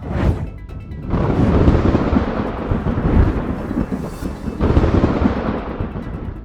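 Loud thunder rolls and rumbles continuously over Moscow, a deep booming roar with a fresh crack partway through, dominating the scene without voices.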